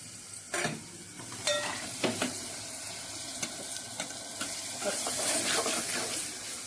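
Pieces of mutton tipped into a hot pan of spices and stirred, a moderate sizzle with a few scraping, clattering stirs, close by and without talk.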